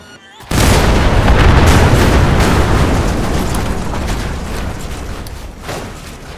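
Gunfire in the video game Cyberpunk 2077: after a brief quiet moment, a loud, dense burst of shots and booms erupts and sustains for several seconds, fading slightly with a final sharper crack near the end.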